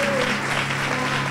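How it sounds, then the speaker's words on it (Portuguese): A Brazilian church congregation claps loudly for a visiting pastor, a thick, even burst of applause with a faint tonal hum beneath it. "Vamos aplaudir a Jesus por esse ministério abundante."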